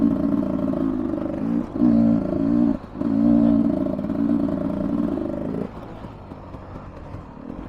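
A 2023 Beta 300 Race Edition two-stroke dirt bike engine revs hard on a trail ride, a loud, close, buzzing drone that surges, dips briefly twice, then settles to a lower steady pull.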